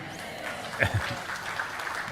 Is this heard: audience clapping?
yes